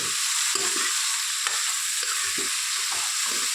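Peeled, cut long purple eggplant sizzles steadily in a hot pan, with soft stirring scrapes and spatula knocks recurring at irregular intervals, no voices.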